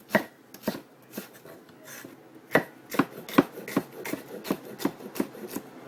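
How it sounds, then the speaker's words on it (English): A knife cuts washed vegetables into thin strips for Ecuadorian-style pepper steak, giving a string of crisp chops on a board, irregular at first then settling into a steadier rhythm, close and fairly quiet. "this is just how we're going to cut the vegetables"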